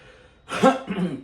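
A man clears his throat once, a short, close, rasping burst that breaks off and rumbles again briefly, alone with no talking.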